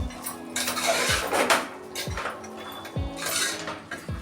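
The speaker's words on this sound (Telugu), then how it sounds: "ఉప్పు వేసి ముక్కకు ఉప్పు కారం పట్టేటట్టు కలుపుకోవాలి బాగా" Mutton pieces are mixed with salt and chili in a cooker pot, with a metal spoon scraping and clanking against the pot in repeated strokes. The sound is close and fairly loud, with no talk.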